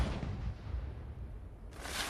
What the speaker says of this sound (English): They love their fireworks.